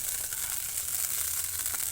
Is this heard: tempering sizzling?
yes